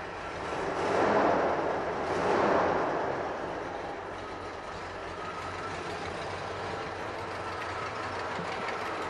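A 1988 Jeep Grand Wagoneer engine accelerating on a road test with slight hesitation, a broad rumbling roar swelling twice early on, then settling into a steady drone.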